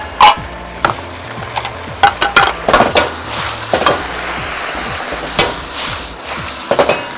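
Beef and snow peas sizzle in hot oil in a pan while a utensil scrapes and knocks against it in quick, uneven strokes. The frying is close and loud, with no talk.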